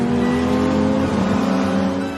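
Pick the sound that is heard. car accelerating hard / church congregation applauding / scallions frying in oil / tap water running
car accelerating hard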